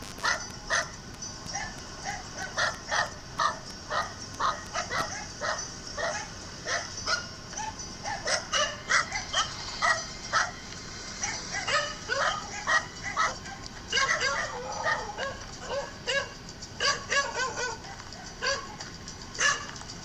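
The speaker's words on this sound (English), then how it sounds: "heard these dogs sounding the alarm" Dogs bark repeatedly and excitedly over a long stretch, overlapping yaps and yips at mid distance, with muffled voices occasionally underneath.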